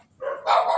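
A dog barks at night in a cemetery, a short close yelp jumping into louder, fuller barking that runs to the end, with nobody talking over it.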